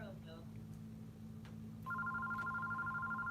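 A landline telephone starts ringing partway through, a steady electronic double-tone warble, fairly faint, over a constant low hum in a room during a live stream.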